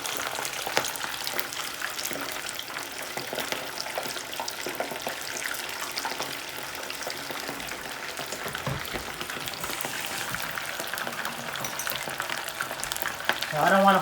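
Shrimp frying in hot oil for salt and pepper shrimp, a steady dense crackle and sizzle that holds for the whole stretch, close and fairly loud, with no talk over it.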